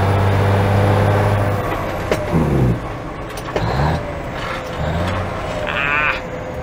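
An old Mack truck with a twin-stick transmission works through gear changes. Its loud, close engine drone drops and climbs as each shift is made, with short mechanical clunks between gears.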